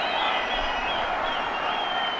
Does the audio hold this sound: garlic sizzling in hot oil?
no